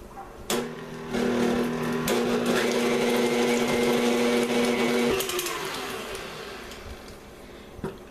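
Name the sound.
blender mixing butter and cream cheese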